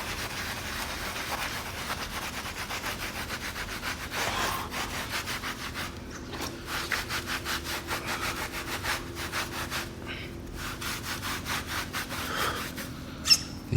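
A concrete garage floor is scrubbed with Dawn dish soap before painting. Steady, rhythmic back-and-forth scrubbing strokes rasp close by with no talk.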